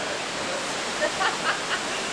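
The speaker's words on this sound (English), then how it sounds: "Waterfall. Isn't it crazy?" A waterfall at the Bat Bar atop Top of the Rock in Branson pours in a steady, dense rushing hiss that fills the clip, with faint voices briefly over it.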